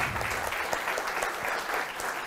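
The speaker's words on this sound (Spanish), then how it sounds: "Un aplauso, por favor." Audience applause at an agricultural seminar on pecan cultivation, a continuous wash of many hands clapping together for a couple of seconds at moderate level.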